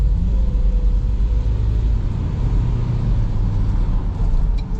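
Ford Everest Sport with a 2-liter single-turbo engine accelerating hard, a loud, steady low engine drone and road rumble heard from inside the cabin, continuous for the whole stretch with no talking.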